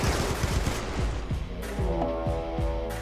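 Gunfire crackles in a Warhammer 40k Krieg battle in Rimworld as rapid bursts of shots, dense at first and then spaced out, steady in level with no voices over them.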